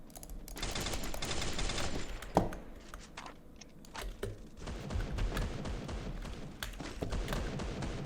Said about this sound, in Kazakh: Пиздец атыс кетіп жатыр